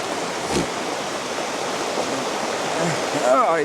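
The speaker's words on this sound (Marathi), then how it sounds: "असला बेकार पाऊस पडतोय" A steady, dense roar of heavy monsoon rain pours down close by in a village, with a brief voice near the end.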